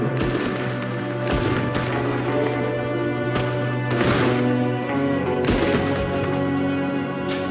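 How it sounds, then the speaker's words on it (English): Gunfire rattles through a Rockstar open world video game, with rapid bursts of shots and sharp cracks layered over a continuous game soundscape, loud and dense from start to finish. "There's another one shooting from the window."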